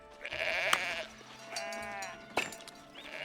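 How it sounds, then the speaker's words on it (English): Sheep in the medieval city-building game Foundation give two drawn-out, wavering bleats with a shorter call after them, clear and close over a faint low game ambience. "Okay, he's going to shear sheep."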